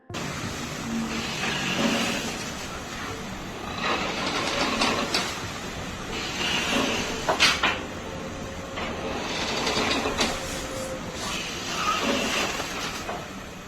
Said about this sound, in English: Haunting creaking noises freaks out tower block residents